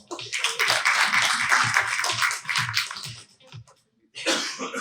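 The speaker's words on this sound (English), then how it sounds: "If it's not, then please applaud." Conference audience applauding at an evening marketing event in Asia, dense clapping for about three seconds that fades out, then a brief renewed burst near the end.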